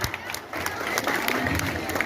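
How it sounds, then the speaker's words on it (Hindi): An audience at a school convocation claps in a steady burst of many hands with light crowd noise, moderately loud and sustained throughout. "चलिए सब लोग ताली बजाइए।"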